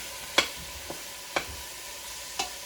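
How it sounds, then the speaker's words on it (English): Ground beef browning in a pan for empanadas, with a low steady sizzle under a few sharp scraping clicks of a spoon stirring the meat, spaced about a second apart. "So we're just going to brown off this ground beef"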